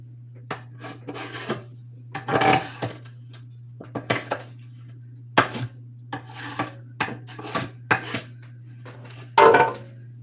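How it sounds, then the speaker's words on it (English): Potatoes and carrots cut up with a knife for a venison pot roast: intermittent bursts of scraping, rasping cuts against a board over a steady low hum, with no speech. "I need to cut up the potatoes and the carrots"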